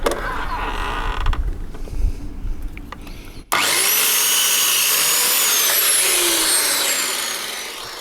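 A power saw trims a wooden workshop shelf support, a short rough cutting noise at first, then a sudden loud continuous whine with creaking tones that holds steady and slowly fades.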